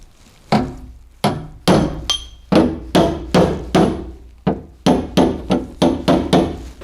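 A hammer drives an extension bit to knock dents out of a door: about a dozen sharp, loud metallic-wooden knocks in an irregular rhythm, some spaced apart and others in quick bursts.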